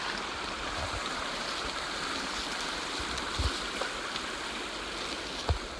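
Creek water rushes steadily during a creek crossing in the Urewera after a period of rain, a continuous, fairly faint flowing hiss with a few soft knocks and splashes.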